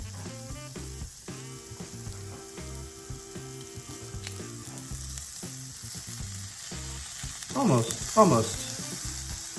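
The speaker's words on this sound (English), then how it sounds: "Sizzle's dying down." Zucchini sizzling and frying in a pan on a stovetop at medium-low heat, a steady close crackle with occasional stirring scrapes and a brief louder burst near the end; one short spoken word.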